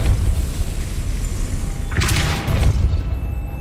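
A Depulso spell cast in the game Hogwarts Legacy: a low rumbling bed, then a sudden bright whooshing burst with a deep thump near the middle that fades quickly.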